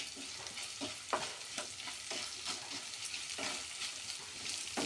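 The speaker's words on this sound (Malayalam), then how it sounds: "ഇതൊക്കെ ഇളക്കി കൊടുക്കുക." Chopped carrot and onion fry in a pan, a quiet steady sizzle broken by a regular series of scraping stirs, close by and faint, with no voices.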